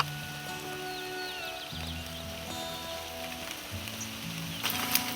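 Rain falls steadily during a mountain hike in Georgia, heading toward the highest village in Europe. It is an even, moderate patter throughout, with faint tonal hum behind it.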